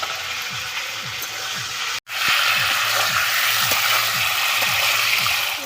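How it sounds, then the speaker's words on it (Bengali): Sliced pointed gourd (potol) frying lightly in hot oil in a village-style kitchen gives a loud, steady sizzle, with a brief cut near the start and faint rhythmic scraping or stirring underneath. "এই যে কেটে রাখা পটলগুলো আমি হালকা করে ভেজে নেব, একদম হালকা করে ভাজবো।"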